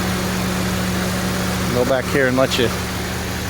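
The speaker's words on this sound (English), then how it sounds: "listen to the exhaust. It's an old car." An old car's engine idles with its exhaust rumbling after a motor oil flush, a steady low hum running under brief talk.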